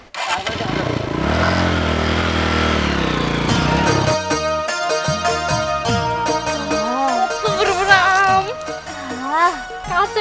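A motorcycle engine runs and revs close by as the bike is ridden and brought to a stop for parking. Loud, steady mechanical drone gives way to uneven throttle blips, with people talking over it.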